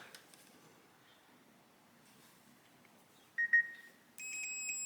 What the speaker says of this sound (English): so this is for a continuity check